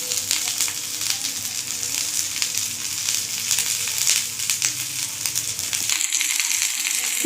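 Potato and minced-meat keema cutlets, egg-dipped, fry in oil in a pan, giving a steady close sizzle with crackling that thins and drops away near the end.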